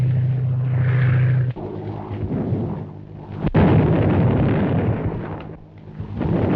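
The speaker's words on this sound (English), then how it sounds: "Landing tear gas bombs all around them, but they don't seem to have any effect." Tear gas bombs burst in a 1935 serial film, with heavy booming rumbles, one sharp crack midway and rolling, noisy blasts that fill the soundtrack without speech.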